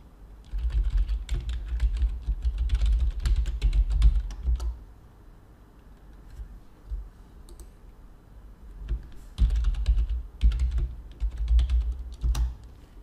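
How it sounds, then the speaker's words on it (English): Typing a username and password on a computer keyboard, with close, crisp key clicks coming in quick bursts separated by short pauses. "You simply need to type in your username and password."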